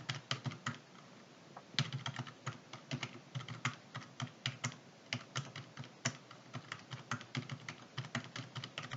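Rapid keystrokes on a computer keyboard during spreadsheet data entry, a dense run of sharp clicks with a brief pause near the start, close and alone.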